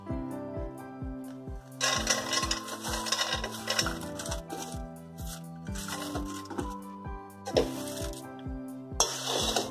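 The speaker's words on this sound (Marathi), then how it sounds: "मिक्स करून घेते." Puffed rice chivda with fried ingredients and a little sugar is tossed in a pan, giving dry rustling, scraping stirs in bursts over a steady rhythmic thumping beat of background music, with no voices.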